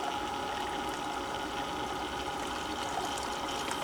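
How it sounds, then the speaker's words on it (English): Water runs steadily through a GoldRop 5-gallon bucket gold trap system, a constant even rush and trickle with no pauses, moderately close and alone without any voices. "Then we'll turn up the water to keep the dirt up in the trap."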